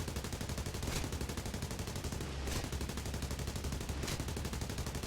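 Machine guns on a Blenheim Mk 4 bomber in the War Thunder video game fire in a dense, continuous rattling stream that runs loud and steady for about five seconds, with brief surges in the burst.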